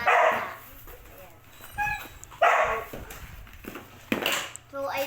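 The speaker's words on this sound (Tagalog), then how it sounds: "Sorry guys, kung maingay yung aso na." A dog barks in loud, close bursts indoors at home, with a few sharp barks and yips spaced through, while a person talks in between.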